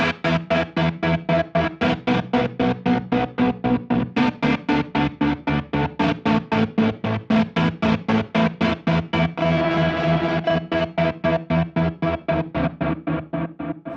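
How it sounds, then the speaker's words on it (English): Guitar chords chopped by a fast, even tremolo from a GFI System Synesthesia Dual Modulator into rapid rhythmic pulses, each note cut short so the reverb tails vanish between beats. "have the tremolo cut off those reverb tails"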